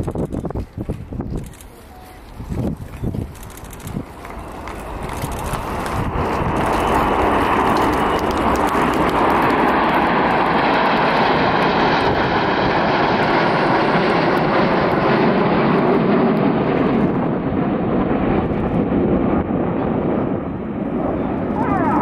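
Jet aircraft fly in a tight formation display at the RIAT air show, a broad, loud roar building over several seconds and then holding as a sustained, distant-to-near rush that fills the whole stretch.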